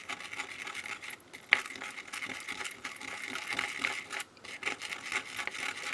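Continuous gritty scraping and swishing of thick silver paint being stirred, steady and close, with a sharp tap of the tool partway through.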